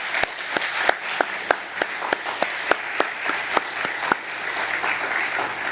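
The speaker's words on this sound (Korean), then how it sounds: "박수 보내주시기 바랍니다." A church congregation at a Wednesday service applauds two missionaries, with a full steady wash of clapping and a sharp, evenly spaced rhythmic clap standing out above it about twice a second.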